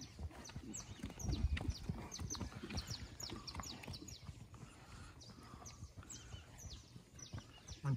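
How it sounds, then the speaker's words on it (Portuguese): A six-year-old gelded purebred Lusitano horse walks on a stud farm, its hooves clip-clopping in a steady, fairly close rhythm of sharp knocks over faint background noise. "Lampião do Volga, lindo cavalo castrado, 6 anos de idade."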